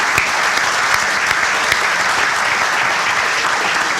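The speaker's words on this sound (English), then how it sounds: "Let's give all of them a big round of applause." Crowd at a stadium renovation groundbreaking ceremony applauds steadily, a loud sustained clapping with no pause across the whole stretch.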